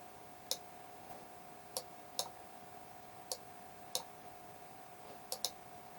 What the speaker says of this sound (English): I'm going to select the cow by clicking on it, then I'm going to move it out the way.